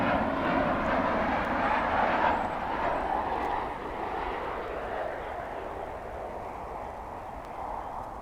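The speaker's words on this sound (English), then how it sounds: "That's coming in from Indianapolis, flight 1506, a Boeing 737-800." An American Airlines Boeing 737-800 jet airliner lands at DFW airport, its broad engine roar steady and fairly loud before slowly easing off.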